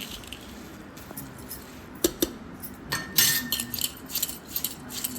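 Bhel puri being tossed by hand in a bowl brings soft rustling and crunching, broken by several sharp clinks of the bowl, close up and with no talking.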